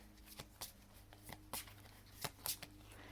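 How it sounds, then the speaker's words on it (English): Close, quiet riffling of playing cards in a series of short crisp bursts, irregularly spaced against near silence. "Man, I really am shuffling quite a bit today."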